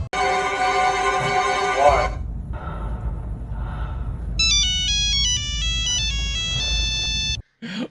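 A satellite phone's electronic ringtone plays loudly, with a steady tonal ring followed after a short gap by a bright, stepping melodic chirp pattern before cutting off.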